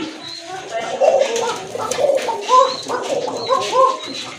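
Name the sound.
Arabian cocker pigeons cooing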